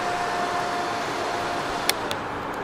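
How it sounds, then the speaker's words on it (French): A small electric fan runs steadily inside a hot car trunk, giving a constant whirring hum with a faint tonal whine, joined briefly by a couple of light clicks near the end. "Voilà, le ventilateur est fixé."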